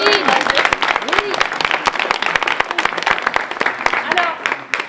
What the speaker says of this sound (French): Eh ben, on peut vous applaudir,